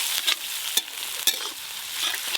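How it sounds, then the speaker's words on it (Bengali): Ginger, garlic and onion fry in a pan with a light sizzle, broken by several sharp scraping stirs at irregular intervals. "আদা রসুন আর পেঁয়াজ হালকা করে ভেজে নিয়েছি।"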